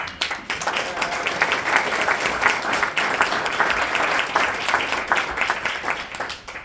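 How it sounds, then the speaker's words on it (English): A book launch audience at the 1199 SEIU hall in New York gives a sustained round of applause, thick and continuous throughout before easing slightly at the close. "we're going to just give an extra round of applause"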